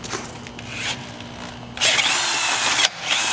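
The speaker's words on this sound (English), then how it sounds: "So we get our wrist breaker drill here and cross our fingers that we don't do just that." A handheld drill bores out a bolt hole on a model railroad switcher truck, first a lighter grinding whir, then a louder, steady high-pitched drilling at full speed that stops abruptly near the end before restarting.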